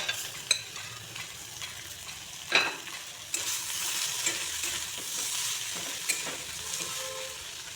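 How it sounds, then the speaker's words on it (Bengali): Raw banana and potato pieces with spiced fish balls hiss and sizzle in a hot pan, with soft stirring scrapes and a few sharp utensil clinks, close and steady. "এখন কাঁচা কলা আলুগুলো দিয়ে দিচ্ছি, মাছের বড়িগুলোও দিয়ে দিয়েছি।"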